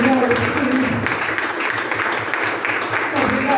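Church congregation at a Sunday service applauding, a sustained patter of many hands clapping in a reverberant hall with a voice speaking over it.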